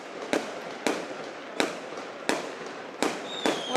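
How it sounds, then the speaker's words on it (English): Fireworks at a football celebration party in Barcelona go off in a steady series of sharp bangs about every half to three-quarters of a second, with crackling in between, at a moderate distance. "And there we see all the fireworks."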